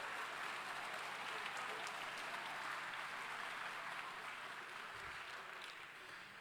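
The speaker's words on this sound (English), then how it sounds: "Let's give yourselves a nice round of applause" At the 2019 Formula SAE Michigan awards ceremony, a large gathering of student teams applauds in a steady, even roar of clapping from many hands, sustained throughout and easing slightly toward the end.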